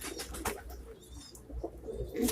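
Pigeons or doves cooing softly inside a backyard coop where a hen sits on eggs and chicks have hatched, with low murmuring calls and faint rustling close by.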